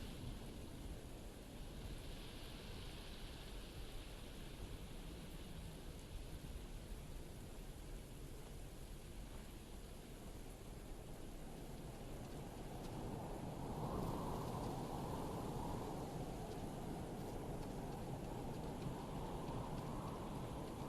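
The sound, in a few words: rainstorm with thunder in video game Starfield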